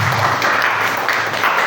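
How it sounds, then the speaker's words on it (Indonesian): A group claps together for everyone at the close of a meeting. The applause is loud, dense and steady, runs for nearly two seconds and has no voices over it. "kita beri aplaus untuk kita semuanya"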